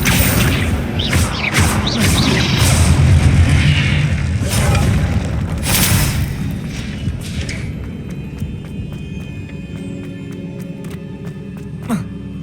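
Spell effects from the video game Hogwarts Legacy: booming whooshes, crashes and mechanical clatter fill the first several seconds, then thin out into quieter magical shimmer and clicks, with a voice calling out spell names over the top.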